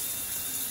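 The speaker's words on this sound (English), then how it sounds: "first step is to get in the shower." A home shower runs in a steady, close, broadband hiss of falling water, with no break over the short stretch and no talk.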